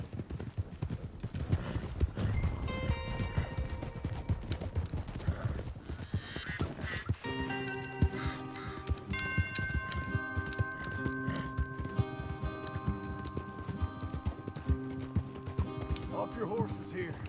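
Horses in the video game Red Dead Redemption 2 galloping with rapid clip-clopping hooves and a whinny, followed by a sustained musical tone, with voices speaking over it.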